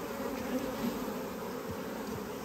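Honeybees swarm and buzz densely around queen mating hives, a close, continuous, even hum with no voices.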